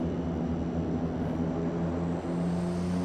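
A de Havilland Twin Otter's twin turboprop engines at takeoff power in Flight Simulator X, a steady, loud, droning roar with a constant propeller hum that holds unbroken throughout.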